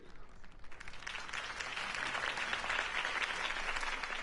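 Large crowd applauding and cheering after a campaign speech in a video game, dense sustained clapping that swells and holds steady throughout, fairly loud with no voices on top.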